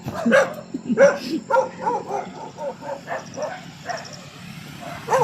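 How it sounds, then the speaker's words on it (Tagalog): Several dogs bark and yip repeatedly at close range, a busy overlapping chorus of barks that keeps going throughout. "Ang daming aso dito"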